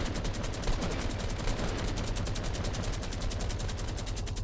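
Automatic gunfire in Fortnite, a rapid continuous stream of evenly spaced shots, loud and close, with no talk.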